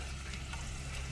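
Bacon frying in a pan at a beach breakfast cookout, a steady, dense sizzle that holds at even loudness without a break, close and alone.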